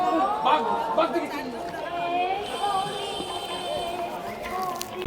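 Crowd chatter at a busy tourist spot in the Sundarbans, many voices mingling at moderate distance in a continuous murmur, with a clear voice speaking nearer over it.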